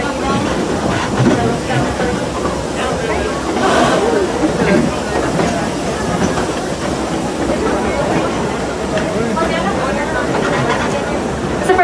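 Riding aboard the Six Flags Over Texas railroad, a train gives a continuous loud rumble with hissing and rhythmic clickety-clack over the rails, and a voice talks over it.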